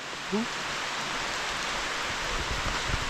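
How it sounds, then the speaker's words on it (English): Steady rain falls on a hiking trail in North Yorkshire, making a broad, even hiss close around the listener, with a brief faint whistle near the start and occasional soft low thumps. "it rains"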